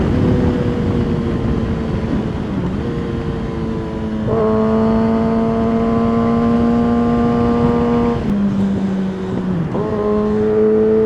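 A Kawasaki ZX6-R 636 sport motorcycle accelerates hard through its gears, the loud, close engine whine climbing steadily then dropping at each of several quick upshifts before climbing again.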